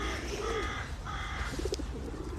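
Crows calling outdoors in London: a couple of hoarse caws and short cooing notes, moderately distant, over steady background rumble with no talking.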